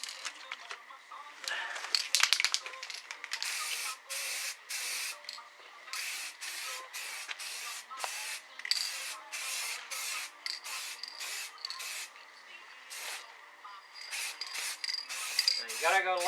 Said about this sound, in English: You gotta go light coats with this stuff and build up the solid.